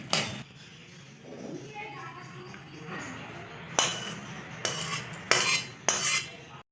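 Metal spoons clink and scrape against a pan and plate as prawn curry in mustard oil is served, with scattered sharp clinks that get louder and more frequent toward the end.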